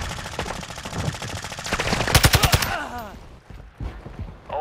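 Machine gun fire in Call of Duty DMZ: a rapid, loud burst of about six evenly spaced shots rings out midway, over a busy backdrop of other gunfire and game noise that trails off afterward.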